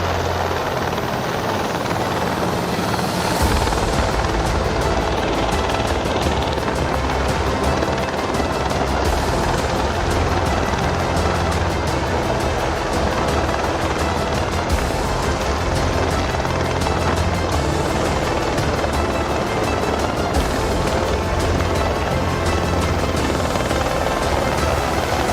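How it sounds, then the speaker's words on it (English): A helicopter hovering low to scoop water from a swimming pool roars close and loud for the whole stretch, its rotor beating in a fast, steady chop over a heavy engine rumble. "a helicopter swoops down to collect water from a homeowner's swimming pool"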